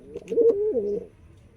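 A single rolling coo from a pigeon in a coop housing a green-headed hen and a red cock, fairly close and clear, lasting about a second and then fading into quiet.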